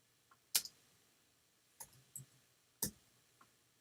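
Sparse keyboard keystrokes while typing HTML code: a few sharp, close clicks spaced irregularly with quiet gaps between them and no talk.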